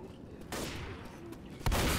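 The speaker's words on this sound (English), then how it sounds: "I'm just walking straight in front of you while you're shooting." Bursts of gunfire in the video game Left 4 Dead, a short volley followed by a louder, heavier salvo near the end, close and sharp.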